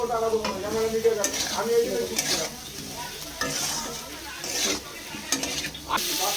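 Potatoes and cauliflower with turmeric sizzle in a pan for a Bengali vegetarian dish, with a utensil scraping and stirring in an irregular rhythm throughout, close and moderately loud.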